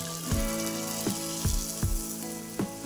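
Luchi frying in hot oil, a steady close sizzle broken by several sharp popping bursts at irregular intervals, fairly loud, with no talking.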